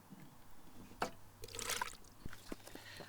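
Water poured into an SBR bonding mix for patio slab mortar, a faint brief splash and trickle with a few soft bursts, heard alone without voices.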